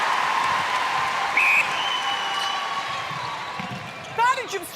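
Crowd at an international netball match between South Africa and England applauding in a large arena, a broad steady wash of clapping with a whistle, and a commentator talking over it near the end.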